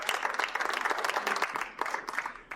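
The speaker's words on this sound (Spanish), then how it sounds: "levántate y dámosle ese aplauso a Papá Dios" A church congregation standing for worship claps for God in a soft, steady burst of many overlapping hands, heard from a slight distance for a couple of seconds.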